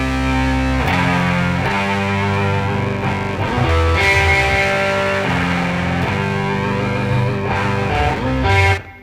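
An Ibanez electric guitar heavily fuzzed with an octave effect plays a song part: loud, sustained, distorted chords that change every second or so and stop abruptly at the end.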